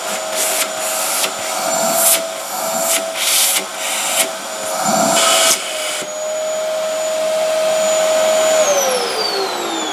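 Dyson DC07 vacuum cleaner running with its filter removed, a steady close motor whine with a few bumps and knocks early on, the pitch dropping as it winds down near the end.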